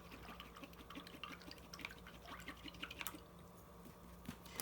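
A paintbrush swishes and taps in a water cup, making quiet, quick watery clinks and drips in an irregular patter, faint and close, with a brief louder splash near the end.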